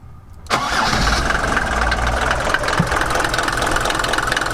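A Luton van's diesel engine, just given new fuel filters, cranks and catches abruptly, then settles into a loud, knocking idle nearby, running steadily with no talk.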